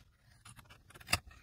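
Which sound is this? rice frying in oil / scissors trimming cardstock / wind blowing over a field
scissors trimming cardstock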